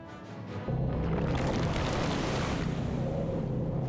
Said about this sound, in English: the Alliance's camp disappeared under waves of water with a very satisfactory gurgling